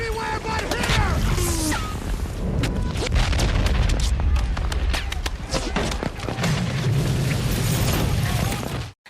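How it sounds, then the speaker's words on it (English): Battle scene of the D-Day beach landing in Saving Private Ryan, with mortar blasts and machine-gun fire pounding continuously at high volume, dense booms and crackling shots, and shouting voices mixed into the chaos. "the landing craft come immediately under heavy machine gun and mortar fire"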